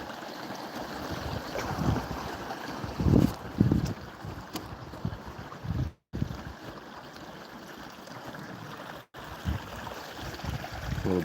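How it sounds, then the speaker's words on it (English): A small babbling brook in Alaska, with steady rushing and gurgling water close by, a continuous wash of sound with gusts of wind noise and no talking. "A little babbling brook."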